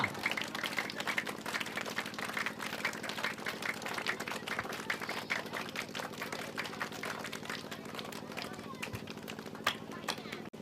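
Many children clapping together in a fast, continuous, rhythmic patter at a village carnival, a dense crowd of claps with voices mixed in.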